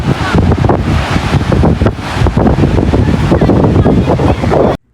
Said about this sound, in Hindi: मैंने कहा थोड़ा सा आपको हवा और पानी का शोर सुना दूं